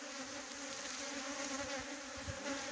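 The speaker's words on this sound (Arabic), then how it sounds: "وطلع لي النحل" Honey bees buzzing at a beehive during spring beekeeping, a steady dense hum of many insects, continuous and fairly close without pauses.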